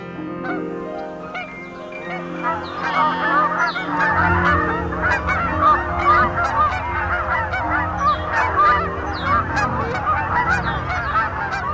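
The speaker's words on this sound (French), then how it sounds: "une bernache, une outarde comme on dit ici, lance le cri d'appel" Canada geese call out in repeated loud honks, a busy overlapping chorus of nasal calls that continues steadily throughout, fairly close and with no voices.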